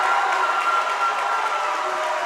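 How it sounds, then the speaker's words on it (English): A high school basketball crowd in Zanesville rises for a standing ovation, a loud continuous roar of cheering and applause filling the gym without pause. "Zanesville crowd is giving a standing ovation"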